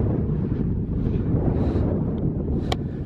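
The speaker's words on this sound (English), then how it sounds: "The wind's picking up a bit now." Strong gusty wind buffeting the microphone on a fell hike near Great Gable in the Lake District, a loud continuous low rumble with slight surges and a brief faint click near the end, no one speaking.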